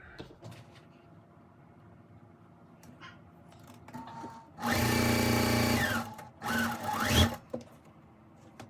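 A sewing machine stitches quilt rows together in two bursts, one long run followed by a shorter one that revs up and stops, between quiet pauses with small clicks.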